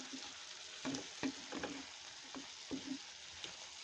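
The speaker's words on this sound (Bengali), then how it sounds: "এখন আমি মিষ্টি কুমড়া আজকে শুধু মিষ্টি কুমড়ার ফ্লেভারে ভাজি করব" Sweet pumpkin frying with green chili, dried chili and onion in a pan, a faint steady sizzle with a few soft spatula scrapes and stirs, close but quiet and without talk.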